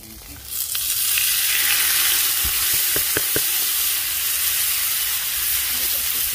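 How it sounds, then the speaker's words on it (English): Tripe sizzles and fries in its own rendered fat on a hot griddle, a steady loud close hiss with a few sharp crackles and pops, with no talk over it. "I'm going to put the tripa first because it gives off fat, and we're going to cook with the fat."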